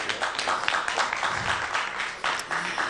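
Sustained audience applause at a televised Georgian dance competition show, a thick wash of many hands clapping continuously with slight swells, moderately distant.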